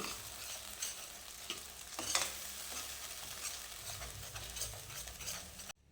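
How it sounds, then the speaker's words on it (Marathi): Kolhapuri masala paste sizzles in a hot pan while a spoon stirs and scrapes through it, a steady crackling fry close up with no voices. "हे वाटण चांगलं परतून घेऊ."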